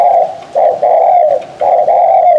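A decoy dove used for bird trapping coos in a repeated series of soft, hollow calls with short gaps between them, close and clear against a quiet background.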